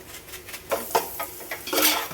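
Vegetables and masala are sautéed in oil in a pan, with a metal spoon repeatedly scraping and clinking against the pan in quick, close strokes over a soft sizzle.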